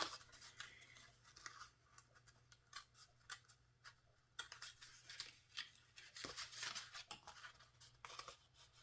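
Scissors cut through one-sided 6x6 scrapbook paper in many quick, close, crisp snips with soft rustling between them, against a faint steady hum.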